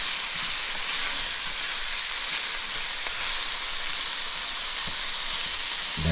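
Shrimp frying in a pan with garlic and onions over medium heat, a steady close hiss and crackle of sizzling that stays even throughout with no talking.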